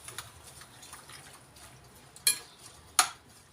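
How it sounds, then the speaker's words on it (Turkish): A spoon stirs salt, black pepper, chili flakes and thyme into a mixture in a bowl, giving a soft, quiet scraping with two sharp clinks against the bowl near the end. "Bunları güzel karıştırıyoruz arkadaşlar."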